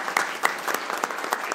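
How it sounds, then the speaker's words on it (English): Audience at a school board meeting applauding a student, a short burst of scattered, fairly sparse claps. "let's give him a round of applause."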